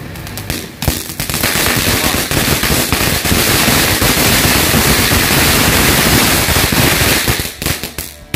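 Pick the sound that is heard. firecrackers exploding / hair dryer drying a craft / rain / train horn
firecrackers exploding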